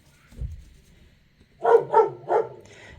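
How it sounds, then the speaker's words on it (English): Dogs bark three times in quick succession, fairly near but moderate in level, after a soft low thump and quiet background during a resin art session. "apologies for the dogs"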